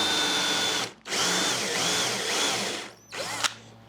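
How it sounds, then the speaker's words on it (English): A power drill with a 3/8 inch Forstner bit whines steadily through wood in two long bursts, stopping briefly between them, then a short final burst near the end. "Now go ahead and drill those out with your same 3/8 inch Forstner bit."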